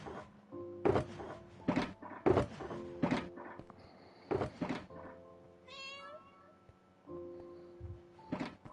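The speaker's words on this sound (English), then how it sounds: "my cats are doing the WrestleMania possibly with each other" Two pet male cats scuffle and wrestle indoors, with repeated thumps and bumps and a few short yowls and meows between them, close and fairly loud, some faint background tones underneath.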